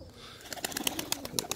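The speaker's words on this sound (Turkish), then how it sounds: "Bunlar da kısa gaga. Boz da kısa gaga. Alalar da kısa gaga. Orijinal ırak kuşları." Short-beaked Iraqi Mosul ornamental pigeons make soft, rapid fluttering and pecking clicks close by, a quiet burst of repeated pulses over a faint low coo.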